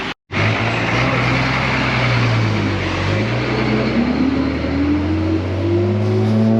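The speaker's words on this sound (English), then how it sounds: "A lot of school children just got off the bus here in the village" A school bus drives through a village in Udawalawa, Sri Lanka, its engine droning loud and close with rising and shifting pitch as it moves and changes gear, after a brief cut at the start, with no talk.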